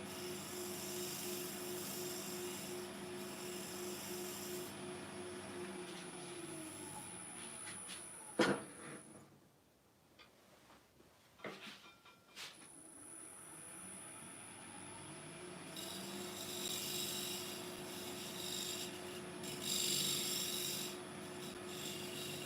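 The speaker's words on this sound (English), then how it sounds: "the skew chisel, Remove that like a negative rake scraper." A skew chisel used as a negative rake scraper on a wooden bowl spinning on a lathe gives a steady, close scraping hiss with a high whine, briefly dropping away mid-clip before resuming.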